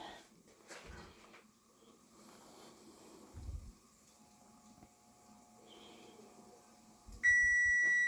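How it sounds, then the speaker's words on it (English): A kitchen timer goes off while pasta cooks, a loud steady electronic beep near the end, after a quiet stretch of faint kitchen clinks and handling noises. "our timer's gone off"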